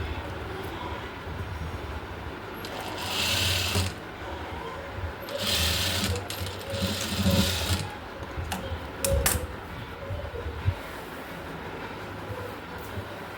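Sewing machine stitching the neck of a frock nighty, fast mechanical rattling in several bursts of a second or two each, close and moderately loud with short pauses between runs.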